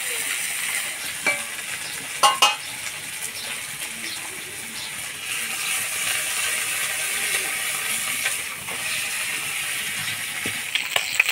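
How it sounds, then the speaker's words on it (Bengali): Small river fish sizzle and crackle steadily in hot oil in a home kitchen pan, with occasional sharp clinks and scrapes of a utensil against the pan. "তেল গরম হয়ে গেছে, এবার মাছগুলো ভেজে নেব।"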